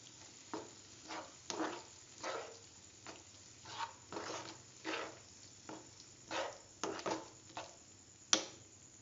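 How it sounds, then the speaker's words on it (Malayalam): Masala stirred in a pan for paneer kurma: repeated scraping strokes of a spoon through thick sizzling paste at an uneven rhythm, close up, with a sharp clink near the end. "ഇതിൻ്റെ കൂടെ ആഡ് ചെയ്ത് നല്ലതുപോലെ ഇളക്കി യോജിപ്പിക്കുക"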